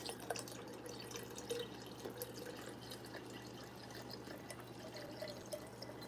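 Sparkling water poured from a bottle into a bowl makes a faint, steady trickle and fizz with a few drip-like splashes, heard alone and quietly.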